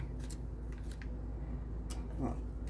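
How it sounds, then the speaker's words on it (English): Scissors snip open a coffee packet in a few brief, quiet cuts over a low steady hum. "Tear it open. Ah. Scissors."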